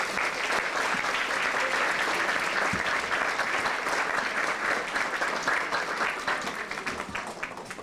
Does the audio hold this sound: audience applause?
yes